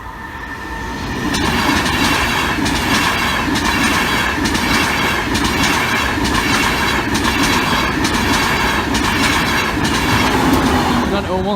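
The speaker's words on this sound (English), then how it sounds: "But on the front is Flying Scotsman" A steam-hauled special train headed by the Flying Scotsman rolls steadily through a level crossing, its loud, close rumble and rhythmic wheel clatter swelling in after a second and holding throughout, with a voice audible over it.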